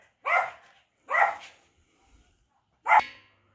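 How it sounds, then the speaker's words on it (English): A dog barks three times, loud and close, with two barks in quick succession, a pause, then a final bark, in an otherwise quiet indoor room. "I paused the video to allow the dog to bark all she wanted"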